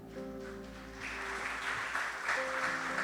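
A church congregation gives a steady round of applause that swells after the first second and keeps going, with soft background voices under the clapping.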